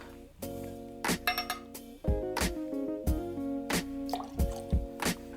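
Gin measured and poured for a Kingston cocktail, close and quiet clinks of a metal jigger against glass with short liquid trickles and drips, in several separate bursts.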